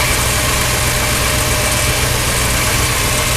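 A 1963 Ford Thunderbird's 390 cubic inch V8 idles steadily under the raised hood, a loud, even low rumble with constant vibration and no voices throughout.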